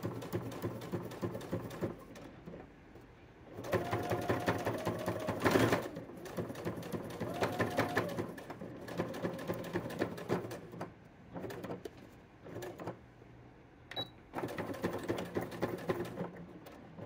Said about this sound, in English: Now I'm just sewing on or slightly to the right of my chalk line.